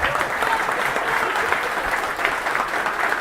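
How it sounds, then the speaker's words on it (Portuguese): Steady applause from an outdoor political rally crowd around a wooden stage in Londrina, Paraná, dense continuous clapping at moderate volume, no voices over it. "vamos pedir uma salva de palmas pro Bertolucci"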